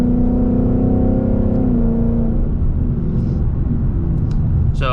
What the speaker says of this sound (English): you'll get an idea how much different it is as each gear shifts.